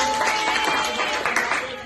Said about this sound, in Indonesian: kasih tepuk tangan dong untuk kelompok 1